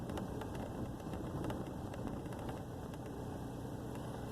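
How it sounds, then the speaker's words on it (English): A truck engine idles in a low, faint, steady rumble with a slight vibrating pulse, holding at one level with no speech. "It's idling, idling, idling."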